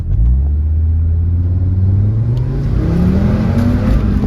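An Audi RS3 accelerates fast in reverse to about 40 mph, its engine revving hard and climbing steadily in pitch, loud and close, with a low rumble throughout.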